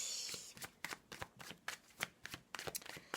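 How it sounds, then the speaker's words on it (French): Oracle cards being shuffled and laid down on a table, a quiet series of crisp slaps and riffles in an irregular rhythm, close up. "je vais recouvrir avec d'autres cartes que je vais prendre"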